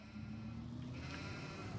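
Sheep in a sheep barn bleating in the Farming Simulator 25 video game, a low drawn-out bleat under a steady hum of game noise, no talk.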